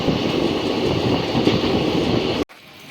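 A moving passenger train on the Panoli to Surat route, heard from inside a near-empty carriage as a loud, steady rumble and rattle that cuts off abruptly near the end.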